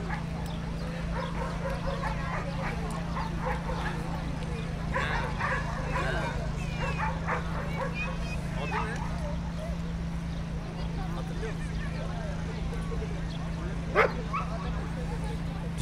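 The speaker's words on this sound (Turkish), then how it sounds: "Dışarıda da köpekler oyun oynuyor." At a dog show, several dogs bark and yip in scattered bursts while people talk close by. A steady low hum runs underneath throughout.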